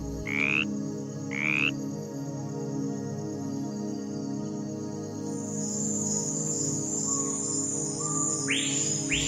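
Poison dart frogs call in the Amazon forest with short, repeated chirping croaks. A dense chorus of insects and birds fills the background, and more calls come in near the end.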